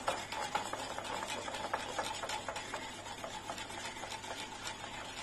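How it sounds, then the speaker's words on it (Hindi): A batter mixture with cooking oil being whisked in a bowl, a steady run of quick, close scraping strokes that continues throughout at a moderate level with no voices. "और इसको भी हम इस तरह से फेंटेंगे।"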